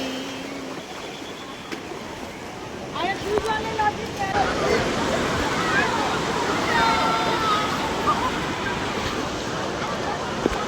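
Ocean waves roll onto the beach at Puri in a broad, steady roar of surf. The wash swells slightly partway through, and faint voices of beachgoers sit underneath.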